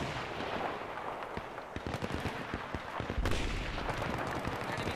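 Heavy gunfire in the video game Battlefield 3, with dense bursts and rapid cracks of automatic weapon shots over a constant battlefield roar, growing louder and punchier near the middle.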